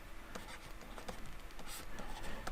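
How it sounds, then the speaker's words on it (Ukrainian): Pen scratching out a math answer by hand, faint close strokes and small taps on paper over a quiet room hum. "Я пишу відповідь."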